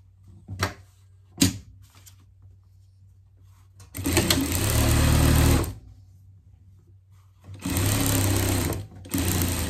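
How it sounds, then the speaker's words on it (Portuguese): A sewing machine stitches small fabric pieces of a hot-dog pet bed in two loud, close bursts of rapid whirring, with a couple of sharp knocks and quiet handling before them. "E passar uma costura aqui em cima."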